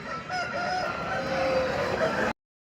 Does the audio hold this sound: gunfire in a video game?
no